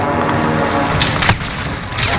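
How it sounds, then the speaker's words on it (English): A precision airstrike in Call of Duty: Modern Warfare hits as a dense, loud rumble of overlapping explosions and bursts, with a sharper blast near the middle, continuous and booming throughout. "This is Phoenix 3, strike inbound."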